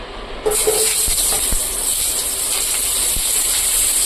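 Cut onions drop into hot coconut oil in a pan and break into a sudden, loud sizzle that holds as a steady, even hiss, with a few faint clicks of a utensil underneath.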